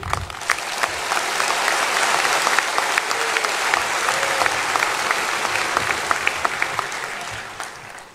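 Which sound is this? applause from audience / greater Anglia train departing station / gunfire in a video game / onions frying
applause from audience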